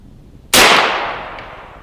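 A single sharp, loud crack from an AEA Element Max .58 caliber air rifle at 3200 PSI, fired outdoors at a 50-yard target, with a sudden attack and a ringing tail that fades over about a second.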